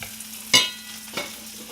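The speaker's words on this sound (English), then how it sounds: "Stir my kale one more time." Kale being stirred as it fries in olive oil in a pan: two brief scraping stirs over a steady low sizzle, close up, with no one talking.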